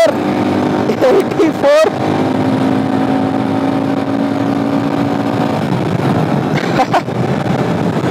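Royal Enfield Himalayan 411 single-cylinder motorcycle engine revved hard toward redline, climbing in pitch, dropping briefly at a gear change, then pulling again as a loud, close, steady roar, with a rider speaking over it.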